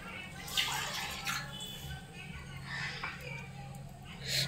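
Water mixed with milk and Ganga water splashes as it is poured over a Ganesh idol during a home puja bathing ritual, a steady close pouring with a few louder gushes while voices talk.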